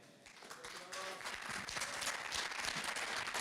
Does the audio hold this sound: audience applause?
yes